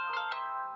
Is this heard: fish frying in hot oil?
no